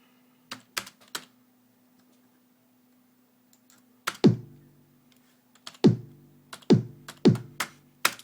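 A stock 909 kick drum with a long tail thumps several times, each hit dropping in pitch as it booms out. A few sharp clicks come before it, and no one speaks.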